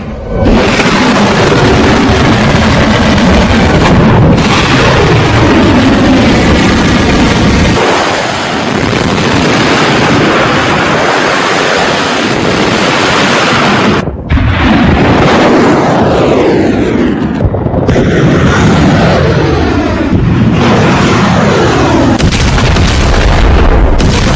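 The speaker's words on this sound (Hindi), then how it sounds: "सबसे पहले अमेरिका और इजराइल ने एक के बाद एक 1200 मिसाइलों से अटैक किया, 1200 मिसाइलों से हमला।" Missile attack explosions in an AI-generated war scene, loud continuous booms and rumbling blasts with jet aircraft roaring overhead, heavy and sustained throughout.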